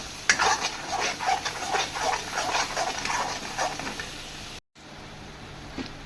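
Cashew curry with masala being stirred in a pan, a steady run of close scraping and swishing strokes with a soft sizzle underneath, and no talking.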